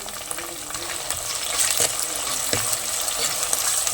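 Beef with onion and ginger sautéing in a pan, a steady close sizzle and hiss with occasional stirring clinks and scrapes, slightly building in intensity.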